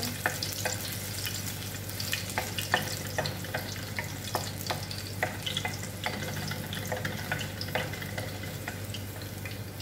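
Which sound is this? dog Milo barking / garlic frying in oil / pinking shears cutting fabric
garlic frying in oil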